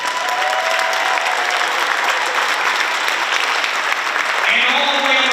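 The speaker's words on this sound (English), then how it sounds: "I would like to give a huge round of applause for our young musicians on the stage tonight." Applause from the audience at a school district strings festival honours young string musicians on stage, continuous and even throughout, with a brief instrument tone surfacing near the end.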